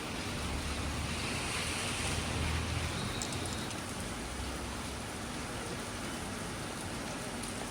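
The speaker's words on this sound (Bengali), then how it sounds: "সকাল থেকে বৃষ্টি হচ্ছে" Steady morning rain on wet streets gives a dense continuous hiss, fairly loud and unbroken, with low rumbling wind noise underneath.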